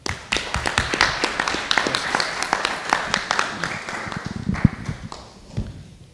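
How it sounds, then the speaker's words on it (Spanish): Scattered applause from an audience after a talk at a Mexican academic event, individual claps heard sharply and unevenly, close and moderate in level, thinning out toward the end. "Un aplauso, por favor"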